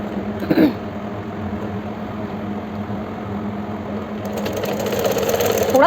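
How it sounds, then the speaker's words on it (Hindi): A normal Usha sewing machine stitches fabric, with a steady, close, mechanical whirring hum that holds constant and grows slightly louder and busier toward the end, after a brief knock near the start. "आज मैं अपनी नॉर्मल उषा स्विंग मशीन पर ही आपको स्टिच करके दिखा रही हूँ।"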